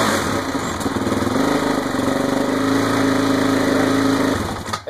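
A Honda 450X motorcycle engine runs steadily at a close, loud idle with a fast, even throbbing beat, then cuts off abruptly at the end.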